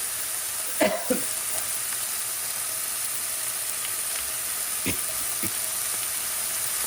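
Beef pieces searing in a frying pan give a steady close sizzle, with a few sharp clinks of utensils against the pan near the start and again toward the end.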